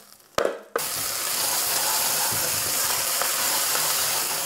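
Tomato paste with a teaspoon of sugar hits a hot pan and sizzles loudly and steadily after a brief clatter at the start, with no talking.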